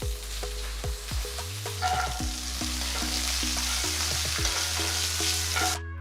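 Loud, steady sizzle of peanuts and curry leaves frying in hot oil with a spoon repeatedly scraping and stirring the pan, close up.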